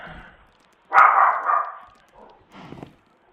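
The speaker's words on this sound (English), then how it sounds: "Why is the dog barking again?" A dog barks nearby: one strong, sustained bark, then two softer, shorter yelps after a pause, with no talk.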